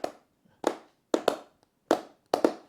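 Single pair of hands clapping a loose beat for a freestyle rap, sharp close claps in irregular pairs with short gaps of silence between, no voices.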